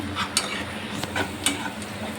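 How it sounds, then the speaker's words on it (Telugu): Crushed garlic and chili paste stirred into onions frying in a pan: a continuous close sizzle broken by a few sharp scrapes and clicks of a spoon against the pan, no talking. "వెల్లుల్లిపాయి కారం ఇది వేసి బాగా మిక్స్ చేసుకోవాలి ఈ ఆనియన్స్కి కలిసిపోయేలాగా మిక్స్ చేసుకోవాలి"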